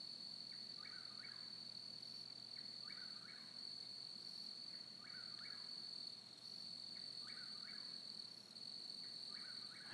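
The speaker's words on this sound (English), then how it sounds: "That cricket's right underneath the light." A cricket sits right beneath a light outdoors, chirping loud and close in short, evenly spaced bursts over a steady high whine and low background hum.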